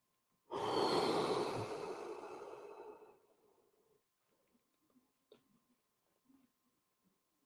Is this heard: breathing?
yes